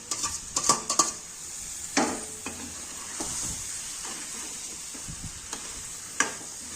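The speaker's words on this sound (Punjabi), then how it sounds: "ਤੇ ਆਲੂ ਗੋਭੀ ਨੂੰ ਆਪਾਂ ਚੰਗੀ ਤਰ੍ਹਾਂ ਹਿਲਾਵਾਂਗੇ ਚੰਗੀ ਤਰ੍ਹਾਂ ਮਿਕਸ ਕਰਾਂਗੇ" Aloo gobi, potatoes and cauliflower, being stirred in a pan with a spoon, with scraping clinks and a steady sizzle of frying underneath, close and moderately loud.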